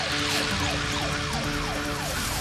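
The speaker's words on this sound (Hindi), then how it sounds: "अरे ये क्या, पुलिस की गाड़ी यहाँ पर क्यों?" A police car siren wails in a loud, repeating rising sweep, heard close and continuous for the whole stretch.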